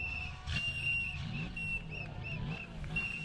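Several short, shrill whistle blasts from a race marshal sound at a distance over a low engine rumble and crowd noise outdoors at the Macau Grand Prix.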